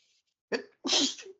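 A single person's sneeze, with a short sharp intake followed by a loud burst, close to the microphone in a quiet room.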